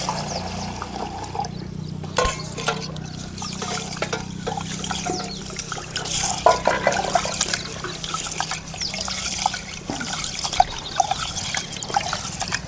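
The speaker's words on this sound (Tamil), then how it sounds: "தண்ணி ஊற்றி நல்லா சுத்தம் பண்ணி எடுத்துக்கணும்." Water trickles and pours steadily over red rice as it is rinsed in a vessel, a continuous close splashing flow with brief louder spatters throughout.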